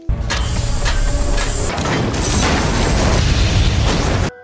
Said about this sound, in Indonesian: Art dan Frank mencoba keluar dari ruangan itu dengan meledakkan tabung gas